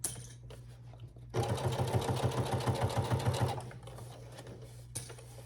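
A sewing machine stitches fabric for a summer tote bag in one fast, rhythmic burst of close, even stitching lasting about two seconds, with quieter handling noises before and after.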